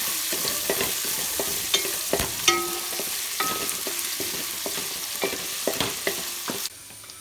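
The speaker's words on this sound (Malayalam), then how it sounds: "അതിനുശേഷം നമ്മൾ അരിഞ്ഞു വെച്ചിരിക്കുന്ന ഇഞ്ചി, വെളുത്തുള്ളിയും നമുക്ക് അതിനകത്തോട്ട് ഇട്ട് കൊടുക്കാം. നമുക്ക് അതിനെ നന്നായിട്ട് ഇളക്കി ഒന്ന് വഴറ്റിയെടുക്കാം." Chopped ginger and garlic sauté in hot oil under a constant sizzle, with a spoon scraping and tapping the pan at irregular intervals, close and alone until the sound stops abruptly near the end.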